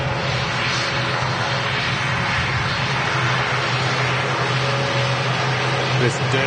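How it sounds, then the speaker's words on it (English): Aer Lingus ATR turboprop airliner engines at Dublin airport, a loud, steady propeller drone with a low harmonic hum held throughout, with a person talking over it. "This dirty Aer Lingus ATR."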